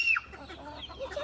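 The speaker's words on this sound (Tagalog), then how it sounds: "Yeah, that's a mama hen." A mother hen on a small backyard chicken farm gives a short, close cluck with a brief higher squawk at the start. There is no talk over it.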